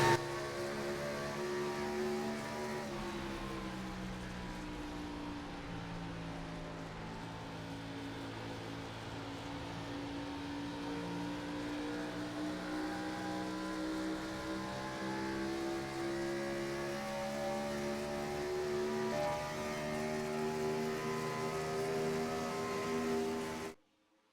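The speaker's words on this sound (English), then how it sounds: "I got to remember to turn down the car sounds when I go on board" Race car engine heard from an onboard camera view in a racing video game at Pocono, a loud, continuous high-revving wail with rising and falling pitch as gears change, close and alone until it cuts off abruptly.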